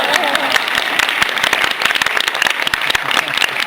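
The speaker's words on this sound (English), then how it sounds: "Applause." A crowd at a red carpet film screening breaks into applause, sharp dense clapping close by with scattered individual claps standing out, continuous across the whole stretch.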